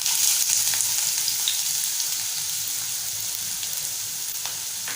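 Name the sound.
chopped onion sizzling in hot oil tempering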